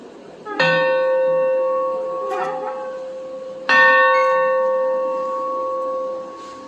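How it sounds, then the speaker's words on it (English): A large locomotive engine bell is struck twice, each clang ringing out with bright, sustained overtones that slowly fade; loud and close, no talking. "it is a bell off of one of the engines."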